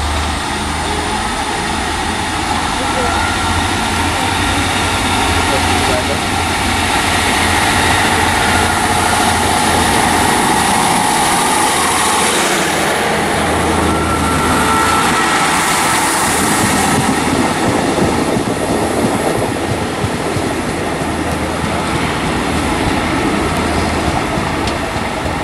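A Great Western Railway diesel train engine at Trowbridge station rumbles loudly and continuously, its throbbing drone shifting slightly as the train idles and then moves past.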